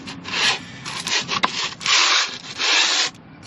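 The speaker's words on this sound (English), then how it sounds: "sand the top of the block." A flat 12-inch piece of 1x4 wood board rasps back and forth across the top of a Ford 5.4-liter engine block, giving several long, close, rough scraping strokes with brief pauses between them.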